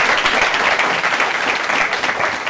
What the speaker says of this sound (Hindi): अब आप थोड़ी सी तालियां मेरे लिए भी बजा दीजिए